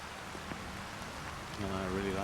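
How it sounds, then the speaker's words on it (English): Heavy rain falls steadily across a golf course during a professional tournament's final round in Singapore, a broadband wash of drops that swells slightly louder near the end, with a faint tonal hum joining underneath. "Warren Bennett goes for the green in heavy rain."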